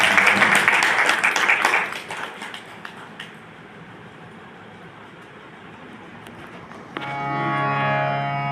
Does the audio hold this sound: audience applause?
yes